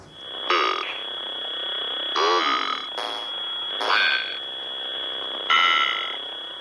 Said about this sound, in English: you'll hear a distorted voice calling out different letters